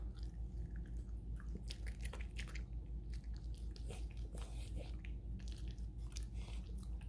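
A dog named in context chews and bites into a piece of smoked brisket point cooked on a pellet grill, giving repeated close, wet crunching and smacking bites over a steady low background hum.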